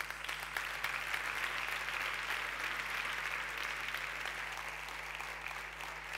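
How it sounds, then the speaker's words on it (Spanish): An audience at a town fair proclamation event applauds, a steady dense wash of clapping that holds for several seconds at moderate distance without fading. "Ese aplauso."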